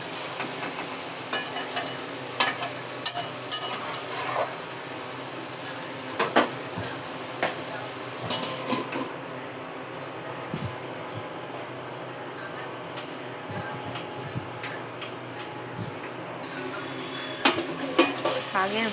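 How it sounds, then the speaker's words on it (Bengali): Kalmi greens frying in a pan in a home kitchen, stirred with repeated scrapes and clinks of a utensil against the pan over a soft steady sizzle, with brief louder knocks scattered throughout. "শাকের ভাজা তো বারবার একটু নাড়াচাড়া দিয়ে দিতে হবে।"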